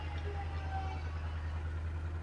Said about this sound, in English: if you just picked up a really loud whirring noise, then that's because a Agrafax self-propelled sprayer just went by